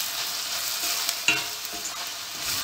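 Chicken and vegetables fry and sizzle steadily in a pan for bulgur pilaf, with a spoon stirring and scraping through the mix in occasional soft clicks and knocks.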